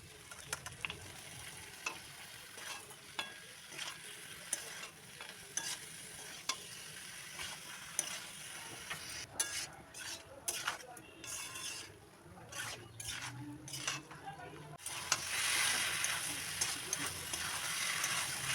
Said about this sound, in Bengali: এবার দেব সেদ্ধ করে রাখা এঁচড়